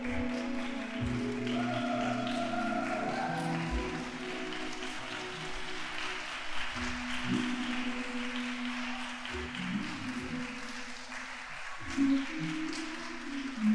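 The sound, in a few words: applause for the bride's entrance at a wedding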